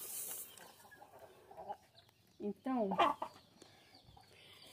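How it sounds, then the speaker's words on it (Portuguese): Hens cluck and squawk nearby in a chicken coop, a loud burst of calls in the middle over quieter background, with a person speaking briefly. "essas galinhas"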